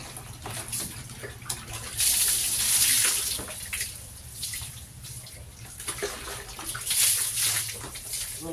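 Water gushes and splashes while Bohgs the dog is bathed, a steady rush that swells in two louder bursts, with faint voices talking now and then underneath.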